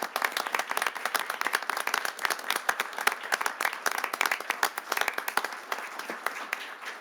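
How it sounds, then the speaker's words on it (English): Audience applause at a city council meeting, dense steady clapping from a room of people lasting several seconds without pause. "let's have one more big round of applause for these four young gentlemen"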